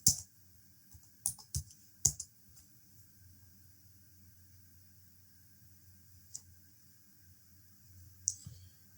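Computer keyboard typing a prompt: scattered sharp clicks in a few quick clusters, then long quiet stretches with an isolated tap or two near the end, close and fairly soft.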